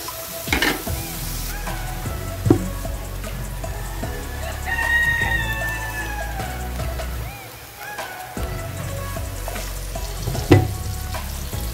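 Mole crickets fry in a little oil in a pan, a continuous close sizzle broken by a few sharp clinks of stirring, with a rooster crowing faintly in the background.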